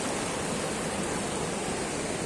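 Sea waves washing onto the shore, a loud, steady broadband roar of surf with no pauses and no voices.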